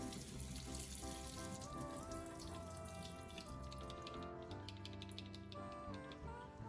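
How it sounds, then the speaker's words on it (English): Canned anchovies are rinsed under a running kitchen tap, giving a steady, loud rush of water that continues without a break and has no voices over it. "you need to rinse them under water to reduce excess oil and salt"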